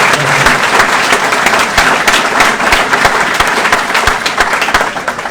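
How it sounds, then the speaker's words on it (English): Loud, dense applause from an audience at a naval supply school graduation ceremony, sustained clapping close by with no pause. "Another round of applause, please, for these."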